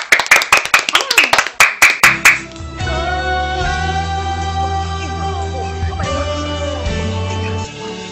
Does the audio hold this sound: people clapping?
yes